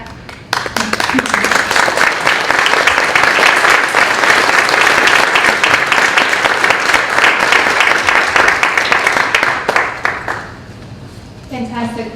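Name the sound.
audience applause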